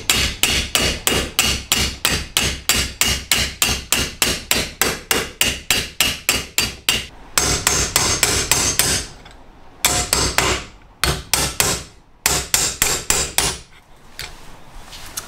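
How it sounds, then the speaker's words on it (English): A hammer strikes a steel patch panel into a rusty car rocker sill near the jacking point, about twenty sharp, loud, evenly spaced metallic blows in a fast rhythm, then several shorter bursts of rapid hits with brief pauses. "I'll need to do a bit of hammering at the bottom to get it in"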